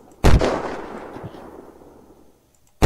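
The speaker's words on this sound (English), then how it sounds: "I got a shot on that guy in the window." A single sharp gunshot in the video game Unturned, loud and close with a decaying echo tail, followed by a faint second pop and another shot starting at the very end.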